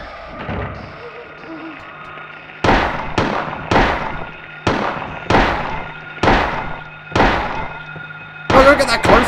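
Gunshots in the Silent Hill 1 video game: seven loud, sharp reports fire at a steady pace, about one every half second to second, each with a short decaying tail, ending in a burst of clatter.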